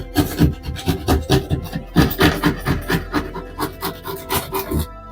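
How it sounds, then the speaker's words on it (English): A knife saws up and down through drywall in quick, rhythmic rasping strokes, each one close and scratchy, roughly a dozen in a steady run. "your knife has to be up and down or you're actually cutting an angle into the drywall"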